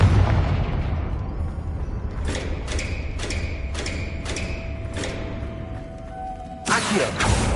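A Confringo spell in a wizard video game explodes as a run of sharp thudding bursts in quick succession, ending in one louder, wider blast near the finish.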